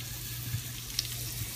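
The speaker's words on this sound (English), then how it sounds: "take our sweet Italian sausage and put that right in the pan. You should hear some sizzle." Sweet Italian sausage sizzles in a hot pan, a soft, steady hiss with faint crackles and a low hum underneath, fairly quiet and without talking.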